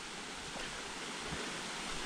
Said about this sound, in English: this is the middle fork of the Helton Creek